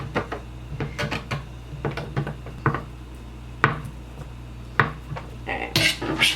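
Knife slicing four slices of turkey on a cutting board in a home kitchen, a series of sharp close chopping taps and clatters at an irregular rhythm, with a few light dish and utensil knocks and no talking.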